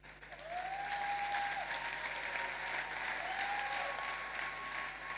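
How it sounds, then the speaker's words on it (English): An audience at a 2022 festival talk claps continuously, a full even roar of many hands that holds steady from just after the start to the end, with a faint high tone drifting above. "You're clapping like I said it."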